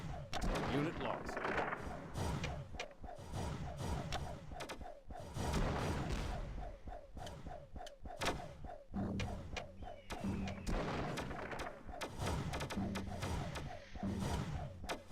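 Artillery bombardment in a video game pounds continuously, with dense bursts of booming impacts and rapid firing layered with a repeating game tone, busy and loud throughout.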